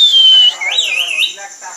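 A pet parrot whistles on command, giving a sharp sliding whistle and then a wavering, warbling run of tones. The whistles are loud and close in a quiet room, with a short pause between phrases.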